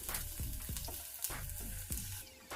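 Minced garlic and chopped ginger frying in hot oil for a lemon coriander soup, with a steady close sizzle broken by several sharp stirring scrapes of a spoon against the pan.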